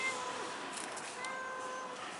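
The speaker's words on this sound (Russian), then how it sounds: "Надо же, у рыжей кошки серый котенок." A cat, one of several strays including a ginger mother and her grey kitten on a city street, meows faintly beneath a steady broadband wash of outdoor noise.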